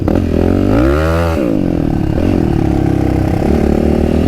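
A Yamaha YFZ quad runs up close at a motocross track, its engine revving up, easing off, then idling and pulsing loudly with a mechanical clatter, no speech over it.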